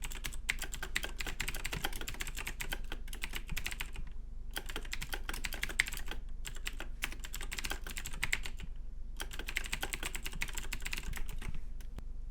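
Fast typing on a computer keyboard, close and clear, with bursts of rapid key clicks broken by short pauses and no talking.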